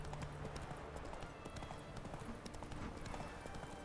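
Horse hooves gallop in a steady, rapid clip-clop rhythm in The Witcher 3, loud and continuous throughout, with light game ambience behind them.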